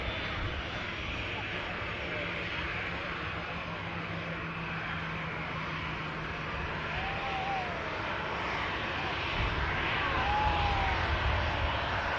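Steady broad roar of a TUI Boeing Dreamliner jet at Manchester Airport, constant and fairly distant with a slight swell near the end, faint whistling tones drifting over the rumble.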